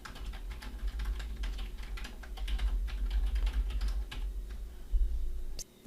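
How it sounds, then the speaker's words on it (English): Steady typing on a computer keyboard while entering a message in chatbot software, a continuous run of soft key clicks close to the microphone with no talking. "Here we're going to type the message to the operator."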